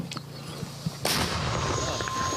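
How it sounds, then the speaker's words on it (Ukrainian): A sudden loud gunshot blast on a war front line in Ukraine cuts through, followed by a ringing, lingering boom that slowly fades, with faint earlier thuds. "Постріл"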